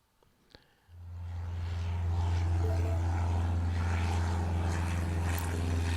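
A propeller airplane in the game Airport Madness: Time Machine spools up for takeoff, starting with a couple of small clicks, then a steady, loud, low engine drone that grows and holds.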